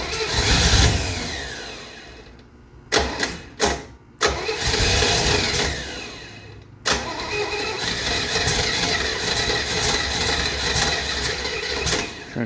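A 1968 Camaro engine with a mechanical fuel pump cranks repeatedly and sputters as it tries to start, in loud close bursts broken by short pauses, then runs roughly and unevenly.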